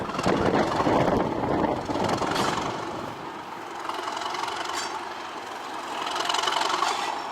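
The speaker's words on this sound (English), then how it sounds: "And there goes the train." A train rumbles past between Whitby and Goathland, North Yorkshire, with a loud, steady mechanical roar that eases off midway, then swells again toward the end.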